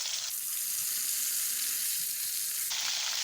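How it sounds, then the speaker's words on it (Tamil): Mustard seeds, fenugreek and urad dal sizzle and crackle in hot oil, a steady loud frying hiss that swells after the first moment and eases near the end. "கடுகு, வெந்தயம் இது மட்டும் போட்டு தாளிக்க போகிறோம்."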